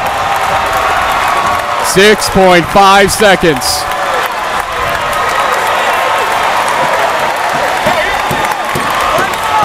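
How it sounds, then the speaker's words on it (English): Loud crowd at an NJAC men's college basketball final in an arena, cheering and applauding steadily throughout, with someone talking over the noise for a few seconds. "As you can hear the crowd getting pretty upbeat here."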